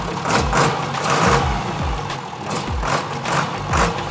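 Close, loud idle of a farm tractor engine with a deep heavy-truck rumble, pulsing in a regular chugging rhythm.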